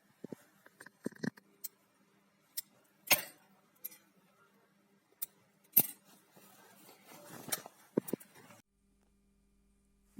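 Scissors snip thread ends on finished sewn denim jeans, giving a few sparse, sharp clicks and snips close by, separated by quiet gaps and soft handling noises.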